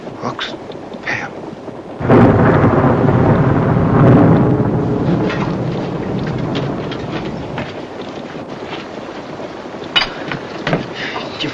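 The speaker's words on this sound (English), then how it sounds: "I don't think nobody will find us in this storm." A thunderstorm on the river at night, with heavy rain hissing loudly and a deep rolling rumble swelling partway through, continuous and close.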